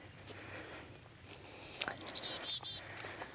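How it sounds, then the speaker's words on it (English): Birds chirp and twitter in quick, faint bursts around a blooming flower garden in July, high bright calls over a quiet outdoor background, no voices. "There were so many birds in this garden."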